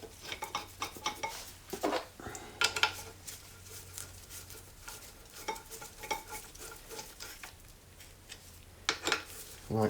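Metal wave washers and 8mm hex head bolts are handled while fitting the brake on a BMW R80 custom build. Scattered light metallic clinks and rattles come in irregular bursts, close and fairly quiet, with no talking.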